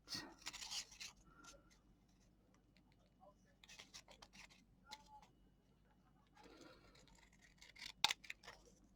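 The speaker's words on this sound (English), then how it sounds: "I'm just going to see if I can just cut" Scissors cut through paper card for a handmade watercolour anniversary card, giving soft bursts of snipping and rubbing separated by quiet pauses, close and faint, ending in one sharp click.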